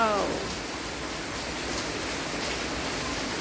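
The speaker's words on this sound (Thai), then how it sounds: "นี่คือบรรยากาศฝนตกที่บ้านของเรา" Steady, dense hiss of rain falling continuously, fairly soft and even throughout, with a brief voice fragment at the very start.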